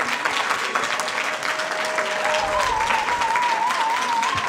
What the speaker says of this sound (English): A round of applause for this amazing team.